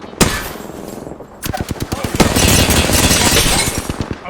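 Rapid automatic gunfire from enemies in the Apex Legends shooter game, loud close bursts of shots in quick rhythmic succession, starting with a single crack then sustaining dense fire.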